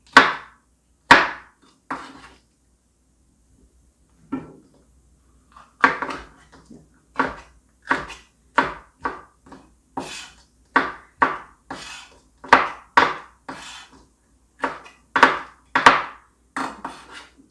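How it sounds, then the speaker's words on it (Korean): A knife cuts pork chop steak on a cutting board for Korean pork chop steak, giving about twenty crisp, close chopping knocks in an uneven rhythm with short pauses between clusters. "이거는 작은 거는 자기 취향에 따라 이렇게 썰어주세요"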